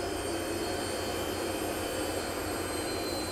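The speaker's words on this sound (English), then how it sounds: "the engines are spooling down to zero again" Aircraft engines wind down after shutdown during an engine start demonstration, a steady broadband roar with a thin high whine that runs evenly through the clip, with no speech.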